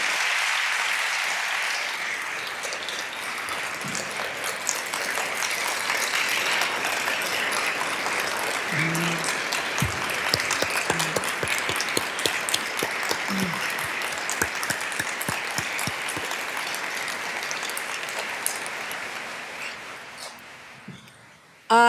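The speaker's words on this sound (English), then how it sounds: "Let's give them both a round of applause." A large crowd applauds at length during a governor's State of the State address, a broad, even roar of clapping that holds for about twenty seconds before cutting off sharply.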